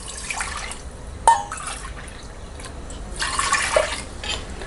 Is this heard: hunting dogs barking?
no